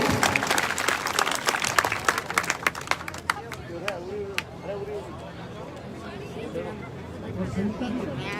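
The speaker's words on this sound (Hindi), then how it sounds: "जोरदार तालियां भामाशाहों के लिए।" Crowd applause for donors at a medal winners' honouring ceremony in Rajgarh, Churu; loud clapping at first that thins into scattered claps and murmuring chatter, with faint voices in the background.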